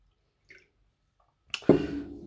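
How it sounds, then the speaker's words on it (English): Water pours into a fabric dye mixture for painting newspaper paper tubes, a single splashing gush that begins abruptly after near silence and settles into a steady trickling flow, close and fairly loud. "now we can put more water."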